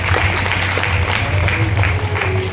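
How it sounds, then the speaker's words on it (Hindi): Audience clapping at a Srimad Bhagwatam Katha religious gathering in Delhi, steady dense applause over a constant low electrical hum, loud and sustained. "तब इनके लिए तालियां तो बजा दो कम से कम।"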